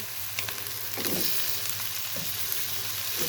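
Tomatoes sizzle in a pan of prawns as a constant frying crackle, with a few brief scraping stirs breaking through, close by and without speech.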